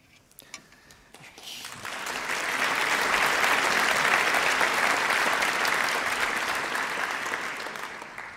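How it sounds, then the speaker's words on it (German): A concert audience at an Indian music performance in Berlin breaks into applause, swelling within a couple of seconds into sustained, steady clapping that holds loud before easing slightly. "Applaus"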